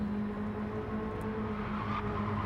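Racing cars in a racing video game broadcast, a steady engine drone with a constant low hum throughout and a faint rising tone near the end, no talking.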